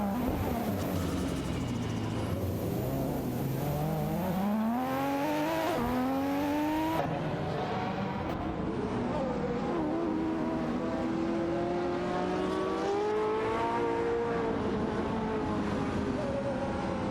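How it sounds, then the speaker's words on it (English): An AI race car in a racing video game roars past, its engine note climbing in pitch as it accelerates, then shifting and rising again through gears, loud and continuous with no voices. "Automobile dashing away."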